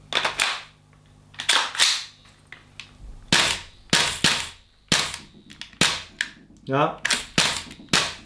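A Double Eagle Noveske N4 MWS gas blowback airsoft rifle fires a series of sharp, loud single shots, each with a snappy bolt clack, spaced irregularly and close to the microphone. One brief spoken word is heard.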